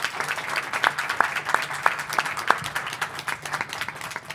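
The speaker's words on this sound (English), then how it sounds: "Please, a round of applause to Yazen, to Tanja, to Donald, and to Swapan." An audience at a panel discussion on investment in global land restoration claps for the speakers: dense, lively applause with sharp individual claps standing out, sustained throughout.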